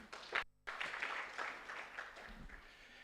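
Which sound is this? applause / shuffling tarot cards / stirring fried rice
applause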